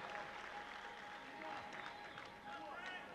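Crowd and team applause at a 1984 basketball semifinal between Manchester Giants and Maccabi Tel Aviv, a dense, steady wash of clapping and crowd noise, with a commentator's voice running over it.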